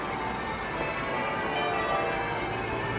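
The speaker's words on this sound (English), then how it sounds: "I'm just getting a dose of the bells of London" Church bells of St Magnus the Martyr in London ring in a steady, overlapping wash of tones, resonant and somewhat distant, with a faint hum of city background beneath.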